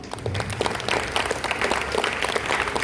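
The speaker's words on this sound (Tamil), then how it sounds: "அடுத்து நம்ம ஆல்டர் சர்வீஸ்க்கு ஒரு பெரிய கைத்தட்டு கொடுக்கலாமே." Applause for a church altar service team, a dense crowd clapping steadily throughout at moderate loudness, no voices heard.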